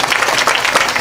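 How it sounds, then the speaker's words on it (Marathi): Villagers clap loudly together at a kirtan, a brief burst of close, dense applause with no voices over it. "जोरात टाळी वाजवा त्यांच्यासाठी"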